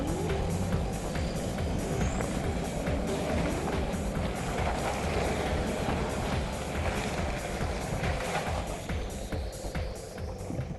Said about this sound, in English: With both the ARB air lockers switched on, the Prado's crawled up here incredibly easy.